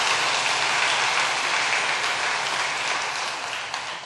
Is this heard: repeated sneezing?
no